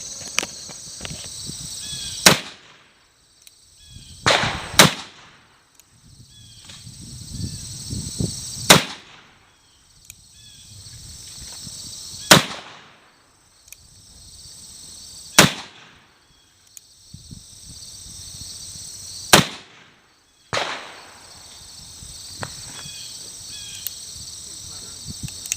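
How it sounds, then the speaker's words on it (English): A Pietta New Model Army black-powder percussion revolver fires a cylinder at a range: about six or seven sharp, loud cracks spaced a few seconds apart, with quieter handling and voices between shots. "I'll set up the camera and we'll go fire another cylinder full."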